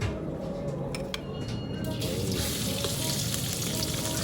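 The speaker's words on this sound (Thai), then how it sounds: "กระทะมันร้อนอยู่แล้ว ใส่พริกได้เลย" Chilies hit hot oil in a pan and sizzle steadily, a continuous crackling fry that grows a little brighter partway through.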